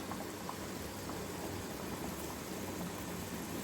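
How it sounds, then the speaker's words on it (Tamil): Tomato curry boiling in a pot, a steady low bubbling and hiss that stays even and faint throughout, with nothing else standing out. "இங்கே பாருங்கள், நல்லா கொதிச்சிருச்சு"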